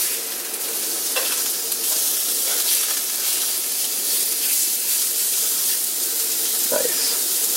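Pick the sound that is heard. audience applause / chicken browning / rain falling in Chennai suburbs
chicken browning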